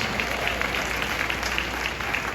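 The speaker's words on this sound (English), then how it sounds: "Could you give yourselves a round of applause?" Audience applause at the People's Choice Awards ceremony, a dense, steady wash of clapping from a large crowd, loud and continuous throughout.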